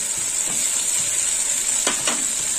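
Ground poppy seed paste fries in hot oil and spice masala, giving a constant bright sizzle, with a couple of sharp scraping stirs near the end and no talking.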